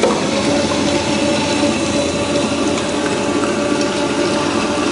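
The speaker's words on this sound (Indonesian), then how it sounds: "Kita pasang paddle-nya. Kita bisa langsung gunakan kecepatan yang tinggi." A stand mixer fitted with a paddle beats marble cake batter at high speed, a loud, steady, close motor whir and churning drone with no break and no talk.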